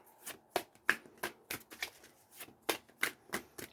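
Quick bursts of tarot card shuffling, a dozen or so crisp riffling flutters in an uneven rhythm, close up with no talking.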